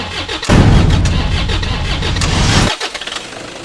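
A diesel engine fuelled with used cooking oil turns over and catches, then runs at a loud, steady idle for about two seconds before cutting out abruptly.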